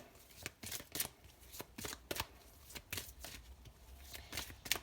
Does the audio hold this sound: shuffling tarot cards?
yes